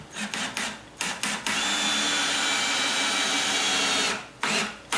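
A power drill drives a 3 inch screw into a door: a few short bursts, then one sustained whirring run of about three seconds, then more brief bursts, close up with no speech.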